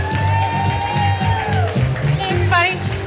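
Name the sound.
audience applause and cheering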